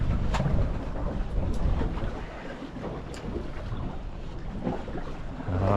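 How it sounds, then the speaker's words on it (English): Gusty wind buffets a fishing boat drifting on a choppy sea, a dense, rumbling roar with low thumps and occasional sharper knocks, steady and close throughout. "it is pretty windy today and the drift is pretty hectic"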